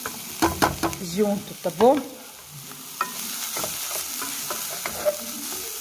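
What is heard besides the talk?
onion and carrot sautéing in a pan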